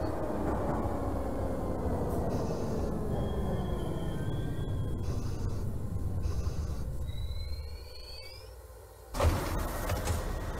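An R62 subway car on the 4 train, simulated in OpenBVE, rumbles steadily with a whining motor tone that drifts downward as it slows, before a sudden louder burst near the end.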